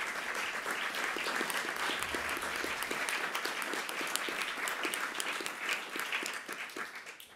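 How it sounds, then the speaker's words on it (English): Audience applause for the speakers at a policy event on reducing gun violence, a sustained, even roar of many hands clapping heard from a moderate distance, fading slightly at the end. "please give all of our speakers a great round of applause"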